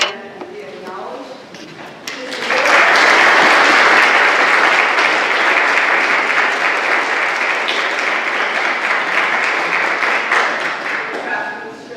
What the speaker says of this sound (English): Craftsmanship, we applaud Ray